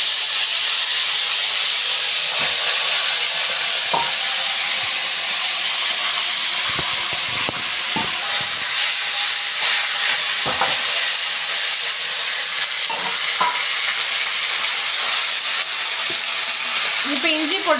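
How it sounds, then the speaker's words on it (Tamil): Mint chutney ingredients frying in hot oil in a pan make a loud, steady sizzle and hiss close up, with occasional clinks of stirring throughout. "ஆயிலை ஊற்றி நல்லா வறுத்துக்கிறோம்."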